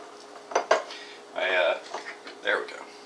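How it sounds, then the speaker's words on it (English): Plastic container being opened in a kitchen while making beef jerky: a few sharp clicks and clatters, a scraping rustle, and another clack, close and fairly quiet. "Get the container open."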